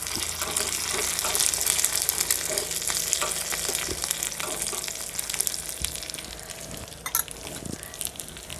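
Fresh curry leaves and cashews crackle in hot oil for a tempering, a continuous close sizzle broken by spatula scrapes and small pops.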